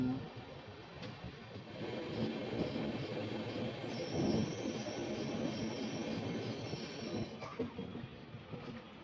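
Gomti Express train 12420 pulls out of Unnao Junction, heard from on board as a steady rumble of wheels and carriage noise with a faint high squeal, at moderate loudness.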